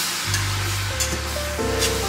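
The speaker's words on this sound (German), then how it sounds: "setzen wir uns einen Topf auf mit Öl und lassen ihn heiß werden und braten als erstes unser Hack an" Minced beef sizzling and crackling in hot oil in a pot, a steady close frying hiss over a low hum, with no talking.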